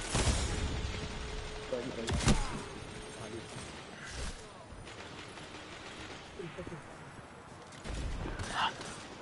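Gunfire in a video game sounds as a few sharp bursts and scattered shots amid a low, busy battle din, fairly quiet overall, with players talking over it.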